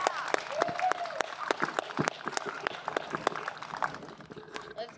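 At a No Kings rally in Salina, Kansas, the crowd gives scattered, uneven applause of separate sharp claps at moderate distance, with voices talking and calling over it.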